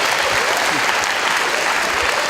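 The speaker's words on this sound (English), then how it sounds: "Let's give a round of applause." An audience at a live holiday science show claps steadily throughout, a dense, continuous round of applause with a few scattered voices mixed in.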